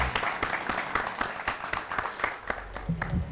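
An audience at a women farmers' award show applauds a winner with rhythmic, fairly loud clapping in distinct pulses that swells and eases, with a low hum entering near the end.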